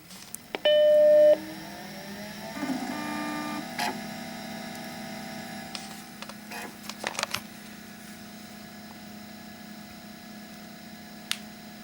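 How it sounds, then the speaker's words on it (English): A Macintosh SE is switched on at the back: a loud startup beep, then a steady whirring hum as its drive spins up, with scattered clicks and ticks through the self-test and boot. Close and alone. "You can tell what drive it is just from the sound that it makes. Have a quick listen when I flip the switch on the back of this."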